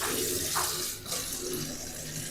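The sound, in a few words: washing kangkong water spinach under running tap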